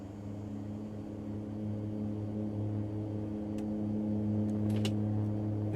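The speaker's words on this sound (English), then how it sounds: "Enjoy the sounds. This is a fantastic sounding plane." Steady turboprop drone from a simulated Mitsubishi MU-2 on its takeoff roll in a flight simulator, a constant layered engine hum that swells slightly toward the end, with a few faint clicks over it.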